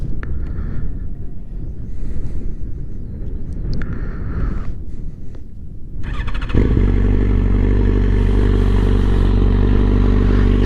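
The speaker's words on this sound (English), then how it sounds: "my Yamaha FZ1N, and now fitted with the GPR exhaust" A Yamaha FZ1N motorcycle fitted with an older GPR Ghisa aftermarket exhaust starts up partway through, settling into a loud, steady, deep idle close by after several seconds of rustling wind noise.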